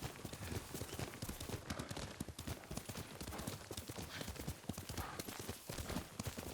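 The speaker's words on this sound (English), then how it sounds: "Yuriko's horse. She can't be far." Horse hooves clip-clop steadily in the video game Ghost of Tsushima, a quiet continuous walking rhythm set within a dense ambient game soundscape with no talk.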